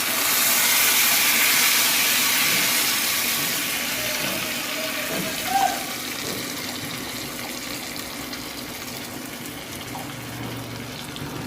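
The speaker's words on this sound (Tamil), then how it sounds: "இப்போ நான் அரைச்ச இந்த கொள்ளு சட்னியை அப்படியே ஊற்றிக்கிறேன்." Ground horse gram chutney is poured into hot, browned tempering in a pan and hisses into a loud, steady sizzle. The sizzle slowly softens, with a small bubbling pop midway.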